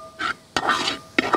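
Ginger, garlic and chilli frying in a pan, three quick stirring scrapes over a brief sizzle, close and clear.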